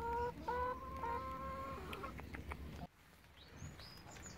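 Newly hatched Araucana chicks cheep in a cluster of bright, repeated high peeps, close and fairly loud at first, then softer scattered calls after a brief drop.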